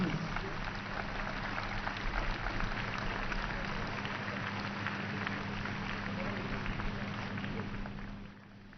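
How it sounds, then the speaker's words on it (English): Crowd applause rolls steadily for paratroopers at an Army Day 2023 display, a dense wash of many hands clapping at a distance with a constant low hum underneath, easing off in the final second. "a big round of applause for these brave paratroopers"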